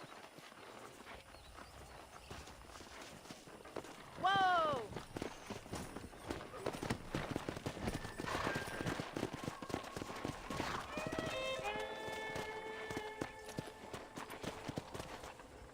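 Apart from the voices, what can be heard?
wild horses hooves in video game Red Dead Redemption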